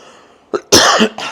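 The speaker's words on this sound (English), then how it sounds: "Sorry for the coughing." Three quick, close coughs from a person indoors during a walk-through of a modern single-story home: a short first cough, then a longer harsh burst and a final smaller one.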